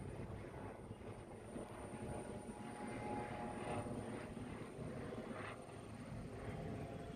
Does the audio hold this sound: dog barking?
no